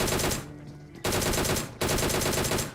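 Rapid automatic gunfire from a gun in a battle royale video game, loud close bursts of machine-gun fire, with a brief gap in the firing near one second before two more sustained bursts.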